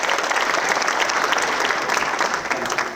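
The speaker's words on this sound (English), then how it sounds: "Give a round of applause for our finance director, Rob DeBoe." Audience applause at a mayor's public meeting, a dense, steady clapping from a crowd that carries on for several seconds at even loudness before easing slightly at the end.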